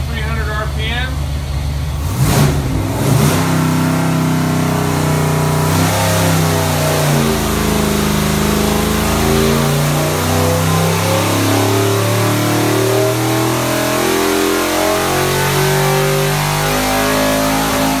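A Ford stroker 438 all-aluminum V8 with low compression, a 232-duration cam and a 102 mm throttle body climbs steadily in pitch from 3,500 to 6,300 RPM on an engine dyno, loud and close, with a voice speaking over the roar.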